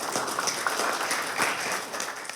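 An audience applauding the team at an event about Argentina's FIFA Match Day visit to Indonesia, a dense, steady wash of many hands clapping, moderately loud and continuous, with no voices over it.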